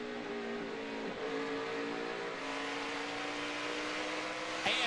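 Kyle Busch's race truck engine roars steadily from onboard during the 2014 UNOH 200, a sustained loud drone with a steady pitch and a brief surge near the end.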